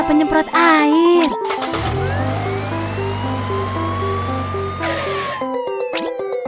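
Animated fire truck siren cycling through repeated alternating tones, sounding under cheerful cartoon music and a brief spoken voice, steady and fairly loud throughout.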